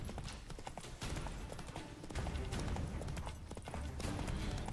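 Horse hooves clip-clop in a quick, steady rhythm against a busy background, fairly close and continuous throughout, from The Witcher 3: Wild Hunt, Hearts of Stone.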